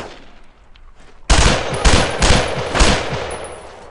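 Machine gun suppressing fire in the WWII game Brothers in Arms: Road to Hill 30 starts after a quiet second, then roars in loud, close, sustained bursts with several sharper peaks.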